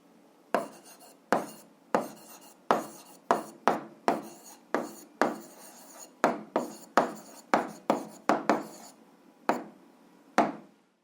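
Pen or chalk strokes writing out a math answer, about twenty sharp taps and scratches in an irregular rhythm, close and clear with quiet in between and no talk.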